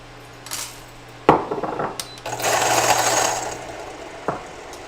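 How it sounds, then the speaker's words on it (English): A coffee grinder grinds a small purge dose of beans in a few short bursts, with a sustained coarse whir in the middle of the clip, loud and close, with clicks and clatter around it. "I'm going to grind my purge, get rid of that coffee, and then I'm gonna grind my actual coffee"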